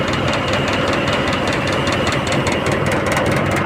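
A ship's engine runs in the Sundarbans with a loud, continuous heavy drone and rhythmic knocking throb, steady and close throughout.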